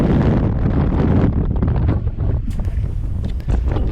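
Storm wind roars across the summit of Mount Kerinci, a loud, continuous rushing buffet that batters the microphone and surges and eases without pause.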